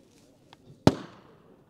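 A PKM Kalashnikov general-purpose machine gun fires a single sharp, loud report that rings out and decays over about a second, preceded by a couple of faint clicks in otherwise quiet surroundings.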